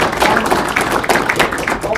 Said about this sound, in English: let's give him a round of applause for his work